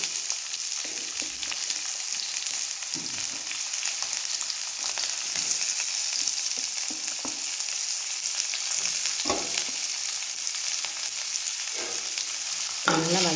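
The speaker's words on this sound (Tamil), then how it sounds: "பொன்னிறமாக வர வரைக்கும் வறுத்துக்கலாம்" Six long-sliced big onions fry in hot oil with mustard seeds and curry leaves for a kuruma, a steady close sizzle with occasional stirring scrapes and clinks.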